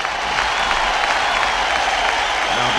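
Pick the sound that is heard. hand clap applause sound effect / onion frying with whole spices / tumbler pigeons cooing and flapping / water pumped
hand clap applause sound effect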